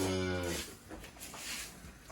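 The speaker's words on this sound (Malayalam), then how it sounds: "അത് നമ്മുടെ പുതിയ പശു കേട്ടോ. അവളങ്ങനെ മൂളോ മിക്കവാറും കരച്ചിൽ കുറവാ, ഇങ്ങനെ മൂളിക്കൊണ്ടിരിക്കും." A newly bought cow gives a short, low moo at close range, followed by quiet barn ambience.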